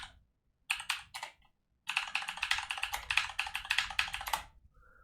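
Someone types quickly on a computer keyboard: a short burst of clicks, a pause, then a longer, denser run of close, crisp keystrokes in a quiet room.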